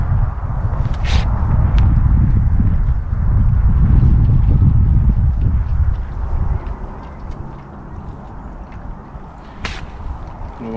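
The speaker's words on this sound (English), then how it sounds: "It's very windy," Strong wind buffeting the microphone at a lakeside feeder fishing spot in Ferry Meadows, a loud continuous roar and rumble that eases in the second half, with a couple of sharp swishes.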